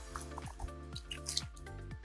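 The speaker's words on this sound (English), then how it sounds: "We're just gonna dunk it right in the water" A heat-friendly synthetic wig is dunked into water and swished, giving soft squishy sloshes and drips. The watery sounds are close and quiet, with faint steady music underneath.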